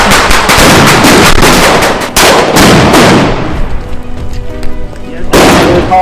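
Loud, rapid bursts of booming cannon fire at a Greater Poland Uprising commemoration in Grodzisk Wielkopolski, one blast after another in a dense volley, fading briefly before another burst erupts.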